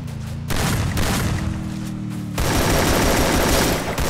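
Rapid bursts of automatic gunfire from the Garena Free Fire battle royale game, loud and dense, with rattling volleys that pause briefly and then resume even heavier.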